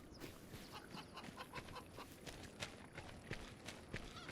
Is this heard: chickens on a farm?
yes